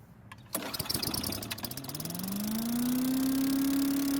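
A Craftsman chipper vac's small engine cranks with a burst of sharp clattering, then catches and revs up into a steady, rising drone that holds.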